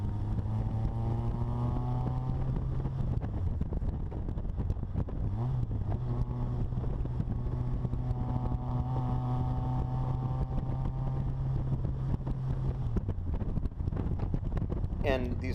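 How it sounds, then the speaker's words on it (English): A Bugeye Sprite with a 1275 engine revs in steady pulls with rising and falling pitch as it shifts and accelerates, wind rushing throughout and someone talking over it. "or you downshift into third and you can blast through the turns sort of like this."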